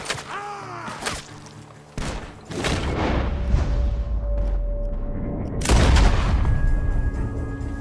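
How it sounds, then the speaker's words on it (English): Gunfire from a barn in Red Dead Redemption 2, several loud sharp shots and booming reports ringing out at irregular intervals over game ambience. "The gunshots are coming from that barn!"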